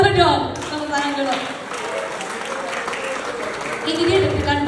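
Audience applause in a campus talk setting, a steady wash of clapping throughout with voices and talk mixed in, loudest at the start and end.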